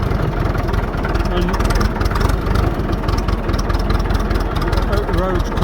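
A Standard Fordson tractor converted to a Perkins 4.270 diesel engine drives along a road in top gear, a loud, close, steady chugging throb with someone speaking briefly over it.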